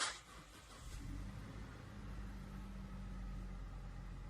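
A car engine started by push button turns over and settles into a low, steady idle rumble, heard from inside the vehicle and fairly quiet.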